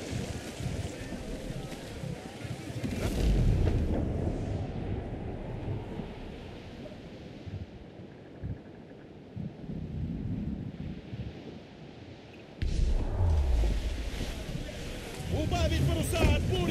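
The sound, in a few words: storm wind and thunder at sea in Assassin's Creed IV Black Flag video game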